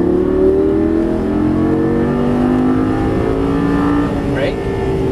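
A Lamborghini Gallardo accelerates out of a turn on a track, its engine rising in a steady loud drone from inside the car as an instructor talks over it.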